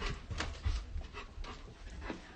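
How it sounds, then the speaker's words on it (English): Dog panting and making short breathy, whimpering sounds, fairly close but soft, in a few uneven bursts indoors, with no clear loud barks. "Who the fuck is he barking at?"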